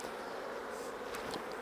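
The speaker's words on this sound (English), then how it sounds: "you can just shake the bees off onto the top frame" Honey bees hum in a dense, steady buzz close by at a hive during a shook swarm, with a few individual bees droning past near the end.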